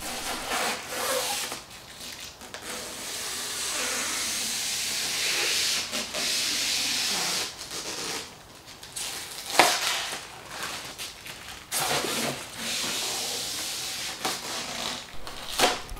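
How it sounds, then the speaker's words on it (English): Home gym equipment is unpacked up close, with bursts of crinkling plastic wrap, rubbing and hissing packaging rustle separated by short pauses and one sharp snap. "Quick ASMR moment with the unpackaging."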